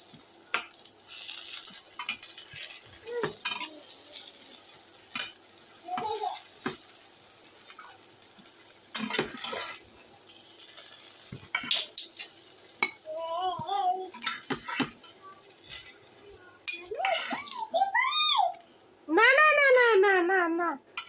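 Oil sizzling in a pan while cooking vegetarian khichuri, with intermittent stirring and utensil clatter, a cat meowing near the end, and people talking in the background.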